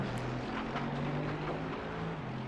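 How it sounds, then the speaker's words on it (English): A Mercedes GT3 race car in iRacing at Laguna Seca accelerates hard out of a corner, its engine a steady, droning, tractor-like growl with sustained low harmonics, heard alone without talk. "that Hankins Mercedes sounding like an absolute tractor there as he got on the power"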